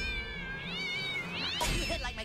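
A cat in the South Park: The Stick of Truth video game meows in drawn-out, wavering yowls that rise and bend, then ends in a louder, harsher screech against faint game background noise.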